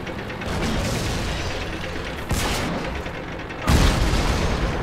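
Tank gunfire in the World of Tanks video game from a Hetzer Tier IV German tank destroyer, with a sustained rumbling roar, a sharp blast midway and a louder, heavy boom near the end.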